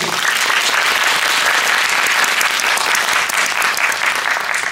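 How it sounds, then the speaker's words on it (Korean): An audience applauds steadily throughout a guest-visit Q&A after a director's cut screening of the film Harbin. The clapping stays full and even, with no talk over it. "여러분 박수 한번 부탁드립니다."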